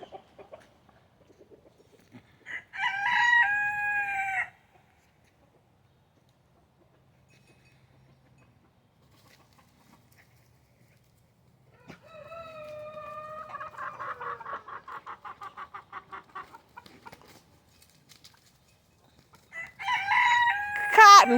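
A rooster crows loudly in a backyard chicken coop, with hens clucking in a long bubbling run between three separate bursts and quiet stretches in between.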